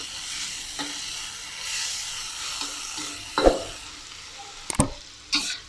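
Tofu and egg fry on high heat in a pan, a steady sizzle broken by a few sharp scrapes and stirring knocks of a utensil against the pan, close and clear with no talk.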